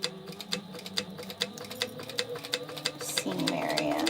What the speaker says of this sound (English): So we're just stay stitching 1/8 of an inch all the way around.